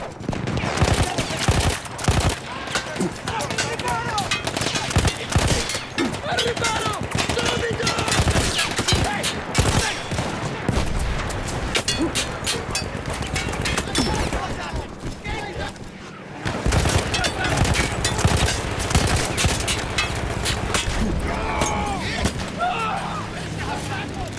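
Mounted machine gun firing in the Battlefield 1 video game, Avanti Savoia war story, as dense, loud, rapid bursts of automatic fire with battlefield crackle, a brief pause near the middle, then sustained firing again.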